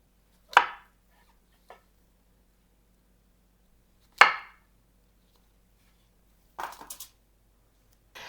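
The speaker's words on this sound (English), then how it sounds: "So I'm going to quarter my mushrooms." A knife quarters mushrooms on a cutting board, landing a few isolated, crisp thuds with long quiet gaps between them, followed by a short cluster of lighter taps.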